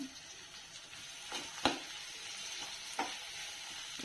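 Chopped green chillies and onions fry quietly in a pan for a fish egg fry, a soft steady sizzle broken by a few sharp taps of a spoon stirring, close and faint.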